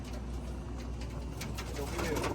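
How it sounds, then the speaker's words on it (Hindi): Taddy pigeons coo softly in a loft in Montreal, low throaty calls repeating under steady background noise, with a voice speaking nearby. "कौन सा कबूतर था? फिरोजपुरी कबूतर।"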